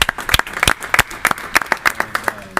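A small group at a board meeting claps for Mr. Fortner, sparse uneven claps that sound close and distinct rather than a dense crowd.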